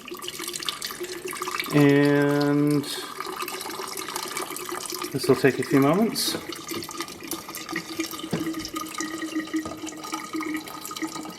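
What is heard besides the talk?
vodka poured into a jar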